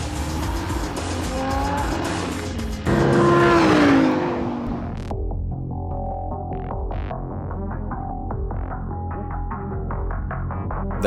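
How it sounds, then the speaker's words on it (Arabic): A Lamborghini Huracan LP610-4 engine, loud and continuous, revving up to a peak with squealing tires before settling into a throbbing, varying run that carries on to the end. "دقات قلبك رح تزيد مع صوت المحرك يلي رح يلفت أنظار الناس إلك"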